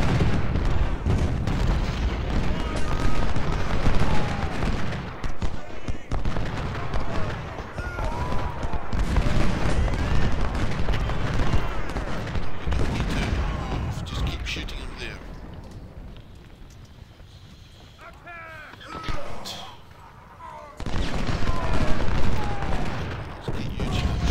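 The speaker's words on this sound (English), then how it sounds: "Cannon has been shot off." Cannon artillery fire in the Ultimate General Civil War video game during the Confederate battle at Malvern Hill, dense rolling volleys of booms and gunfire, steady and loud, easing briefly before a fresh barrage.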